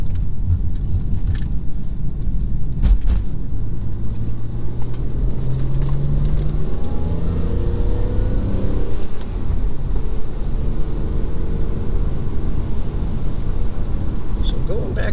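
A BMW E46 M3 driving, its engine droning low and steady for the whole stretch with a rising tone midway, heard from inside the car under heavy wind and road rumble.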